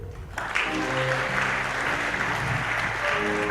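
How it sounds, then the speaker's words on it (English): Audience at an African award ceremony applauds as Technical University of Kenya is welcomed, sustained dense clapping rising after a brief quiet start, with music or a tonal hum running underneath. "A round of applause for Technical University."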